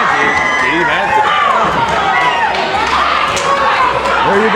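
Partisan crowd at an NWA New South cruiserweight wrestling match cheering for champion Steve Anthony, a loud, continuous roar of shouts and whistles filling the arena, with voices woven throughout.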